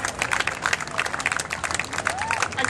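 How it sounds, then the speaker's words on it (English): A street-performance crowd at Federation Square applauds, brisk uneven claps and cheers close by, with a performer's voice mixed in over the clapping. "Get John a nice big round of applause, folks."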